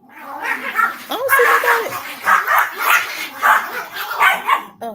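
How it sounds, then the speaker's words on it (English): Several dogs barking repeatedly and agitatedly outdoors, fairly close, mixed with a person talking over them throughout. "These dogs get on my nerve."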